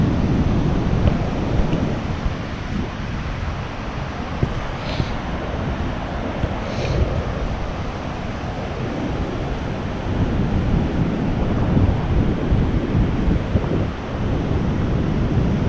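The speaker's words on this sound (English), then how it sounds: "this is Canyon Beach, Oregon." Ocean surf rolls in steadily at Canyon Beach on the Oregon coast, a loud, continuous roar of waves mixed with gusting wind buffeting close by, with no voices.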